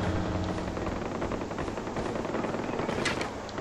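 Sustained gunfire in the shooter game Far Cry 4, a dense continuous rattle of rapid shots filling the whole stretch at steady loudness with no talk over it.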